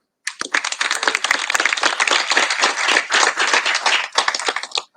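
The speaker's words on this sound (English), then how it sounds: "A round of applause to our community partners." A smaller group at an awards event claps for community partners, a close, crisp patter of individual hand claps that starts abruptly and stops after about five seconds.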